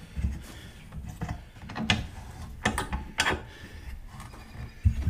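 Ratcheting clicks of a clamp crank being tightened while gluing a wooden stove top cover, a series of short mechanical clacks at close range in a quiet workshop with no talk.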